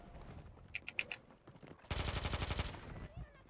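Rapid bursts of Call of Duty gunfire, a sustained automatic volley in the middle, with scattered single shots before and after.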